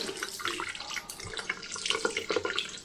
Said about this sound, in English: Yep, that's the hot tap.